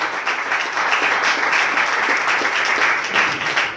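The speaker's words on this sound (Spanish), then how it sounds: "Denle un fuerte aplauso a nuestro Señor Jesucristo." Church congregation gives a loud, full round of applause for Jesus Christ, steady dense clapping with no talk over it.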